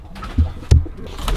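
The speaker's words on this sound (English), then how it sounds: "Here's the pigeons. They're just doing pigeon stuff." Pigeons cooing near a doorway, with two brief low throaty coos standing out over a soft steady background murmur.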